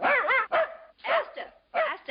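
Sharp, repeated yapping barks from a small dog in an old 1944 film scene, coming in three quick bursts with short pauses between them, close and fairly loud.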